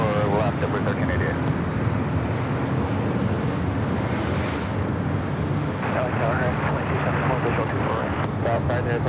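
A United Airlines Boeing 787-9 Dreamliner arriving at LAX from Hong Kong, a broad, steady jet roar with wind buffeting on the microphone, heard continuously with a voice speaking over it.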